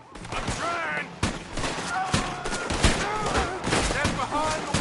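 Gunfire in Red Dead Redemption 2 during a wagon shootout with lawmen, a steady stream of loud shots from several guns at varied distances, while characters shout over the fight.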